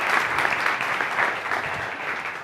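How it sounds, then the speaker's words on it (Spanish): Audience applause for a speaker at a Spanish-language talk on JavaScript and SEO, steady dense clapping from a crowd that holds at an even level throughout with no break. "Un aplauso, por favor."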